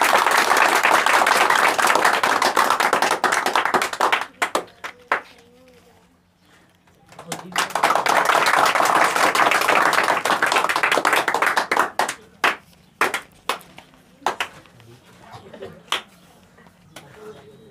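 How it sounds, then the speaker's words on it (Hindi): Audience applause at a student awards ceremony, a loud burst of clapping, then a brief lull and a second strong wave of applause that breaks into scattered individual claps at the end. "आप इनके लिए एक जोरदार ताली।"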